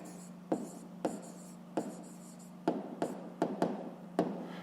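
Pen strokes on paper while a maths exercise is written out by hand, a series of short scratchy bursts spaced irregularly, close and fairly quiet over a steady low hum.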